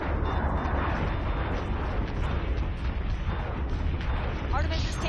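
Heavy explosions and booming weapon fire from guided missile strikes in the space combat game Battlestar Galactica Deadlock, a dense, continuous roar of blasts with sharp bursts near the end.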